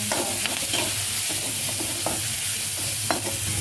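Chilli garlic paste with a little turmeric frying in a pan for potato bhaji, a soft close sizzle broken by scattered clicks and scrapes of stirring, with no talking.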